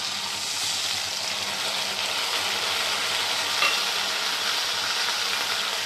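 Ginger, green chili and pepper fry in a pan with a splash of ginger-washing water, giving a steady dense sizzle that stays even and close throughout with no talk.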